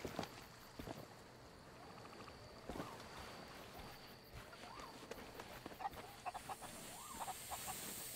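Chickens cluck faintly in the Sea of Thieves pirate video game, set against a steady bed of ship and water ambience with scattered footsteps and creaks across the scene.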